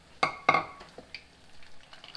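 Onion fritters (cekodok bawang) frying in hot oil, giving a faint, soft sizzle that opens with two sharp crackling bursts before settling into a quiet, steady bubbling.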